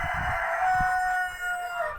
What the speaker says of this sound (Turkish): Hay bağırıyor horozlar da içeriden.